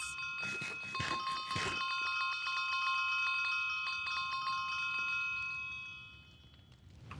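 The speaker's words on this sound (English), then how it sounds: "Wow, that's a loud dinner bell." A bright, ringing dinner bell in Minecraft, struck several times in quick succession near the start, then a long sustained metallic tone that slowly fades, with soft background murmur beneath.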